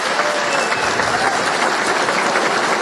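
Audience applause for a university rector at a Brazilian presidential speech, a dense, steady wash of many hands clapping throughout at full strength, with no voices standing out.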